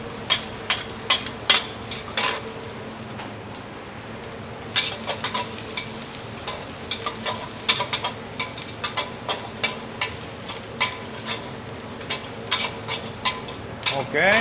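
Garlic, onion and spring onion fry in hot oil with a steady close sizzle and repeated clicks and scrapes from stirring, continuing for the whole stretch.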